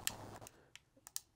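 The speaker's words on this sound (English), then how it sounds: "Let me just type in the team name." Several light, crisp clicks from a computer keyboard, typed quickly and irregularly, close up and quiet.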